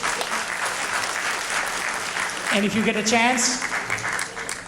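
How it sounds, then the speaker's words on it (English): An audience at a community address applauds with sustained, full crowd clapping, while a voice begins speaking over the ovation partway through. "So that asks for a bigger applause from every one of you"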